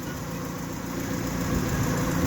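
A small 1.5 liter Honda engine in a Daihatsu Charade idles close by with a steady, low rumbling burble and a slight exhaust leak, growing slightly louder toward the end.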